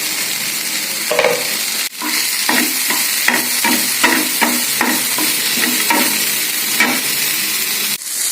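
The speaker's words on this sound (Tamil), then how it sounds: "பச்சை மிளகாய் போடுறேன். அதையும் லைட்டாக வசக்கிக்கலாம்." Green chillies sautéing in a hot pan, a steady close sizzle broken by repeated scraping stirs of a spatula at an even rhythm, no voices.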